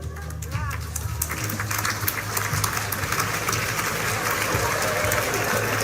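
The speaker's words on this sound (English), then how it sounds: "Parents are applauding, graduates are not." Parents applaud at a graduation ceremony, a dense steady crowd clapping that holds evenly throughout at moderate loudness, with a low hum underneath.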